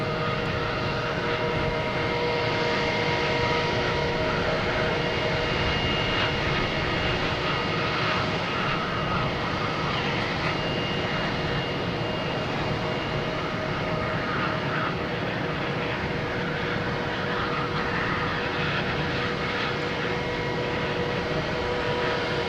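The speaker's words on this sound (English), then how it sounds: "next to arrive is a JetBlue coming in from Pittsburgh, an A220" A JetBlue Airbus A220 arriving at Boston Logan gives a continuous, even engine drone with steady whining tones, heard at moderate distance with no voices.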